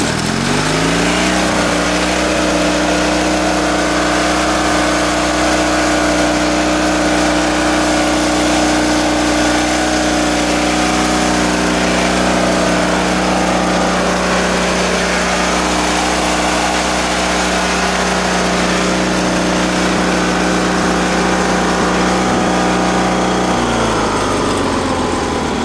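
A homemade mini bulldozer engine running steadily in third gear, a loud, constant droning hum held for over twenty seconds before dropping off near the end.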